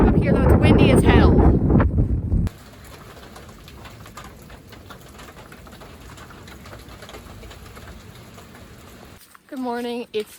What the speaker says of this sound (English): I don't know why people camp up here though, it's windy as hell.